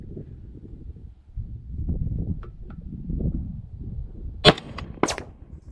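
A rifle with an 11.5-inch barrel fires Winchester 350 Legend 145-grain ammunition at 500 yards outdoors, two sharp, loud cracks about half a second apart that stand out over low wind rumble.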